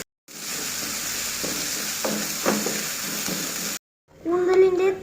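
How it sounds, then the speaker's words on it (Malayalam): Ginger and garlic sizzle steadily as they fry in a pan for a Malayalam home-cooked squid dish, with brief stirring scrapes; the sizzle cuts out near the end, then a louder burst of frying follows. "ഇഞ്ചി നന്നായി ഇളക്കി കൊടുക്കുക."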